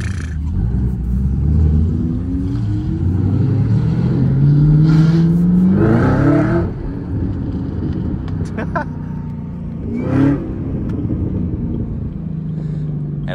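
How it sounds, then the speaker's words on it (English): Cammed Chevrolet Corvette C6 engine rumbles with a choppy, lopey character, then revs up and rises in pitch before settling back, with a brief second blip later, heard fairly close outdoors. "That C6 sounds so good chopping."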